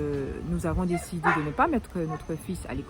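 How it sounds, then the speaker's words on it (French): A pet dog barks and yips in short bursts, close by and partly under someone speaking French over it. "ça c'est mon chien là que vous entendez"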